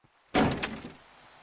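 A door in a video game swings open with a loud, sudden thunk and rattling creak after a short silence, then fades into a soft rumbling tail.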